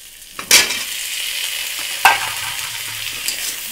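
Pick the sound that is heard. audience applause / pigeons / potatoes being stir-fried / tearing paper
potatoes being stir-fried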